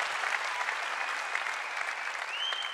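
A comedy show audience applauding and cheering, sustained dense clapping from a large crowd with a whistle rising near the end, loud and continuous throughout.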